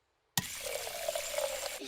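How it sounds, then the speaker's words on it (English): Water splashes steadily from a cartoon water fountain into a bucket, starting abruptly and running as a continuous bright gush for over a second before stopping, with no talking over it. "Daddy Pig is drinking from the water fountain"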